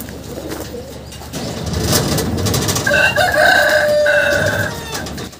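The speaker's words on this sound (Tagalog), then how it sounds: "Ito nga mga kalapatids, yung mismong imported bird." Imported racing pigeons coo and call in a loft alongside other fowl sounds, including what sounds like crowing, steady and fairly close with overlapping bird voices.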